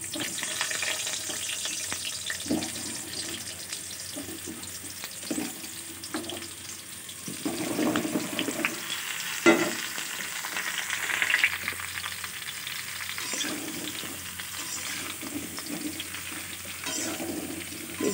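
Mango pieces frying with dried red chillies and five-spice seeds in oil, a continuous close hissing sizzle with soft scraping stirs and occasional crackles, steady throughout with no talking.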